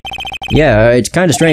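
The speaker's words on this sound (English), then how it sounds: "I heard a phone ring just now. One of those newfangled ringtones." A cell phone ringtone in Phoenix Wright: Ace Attorney plays as a quick run of short, bright electronic chime pulses, then cuts off as a voice starts talking over the scene.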